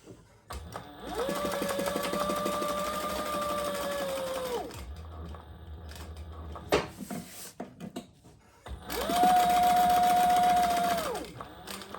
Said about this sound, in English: Now this is top stitching, so you want to be pretty as you can.